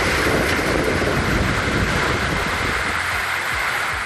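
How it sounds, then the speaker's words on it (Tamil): Strong wind blows with heavy rain in Palani, Dindigul district, Tamil Nadu, a loud continuous roaring wash with rumbling gusts buffeting the microphone throughout. "பலத்த காற்றுடன் பெய்த மழையால் வெப்பம் தணிந்தது"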